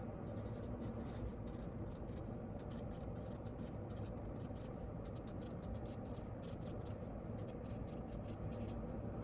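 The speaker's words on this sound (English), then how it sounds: "we're going to write nice and clearly so that we can read them" Steady, close scratching of a pen or marker writing words by hand on paper, continuous and fairly quiet throughout with no talk.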